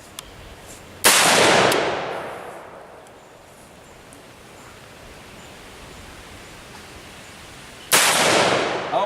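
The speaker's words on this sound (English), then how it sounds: "That last 223 bullet sent it to Mars." Two sharp .223 rifle shots fired outdoors at eggs, each a loud crack with a decaying tail, several seconds apart over quiet background hiss.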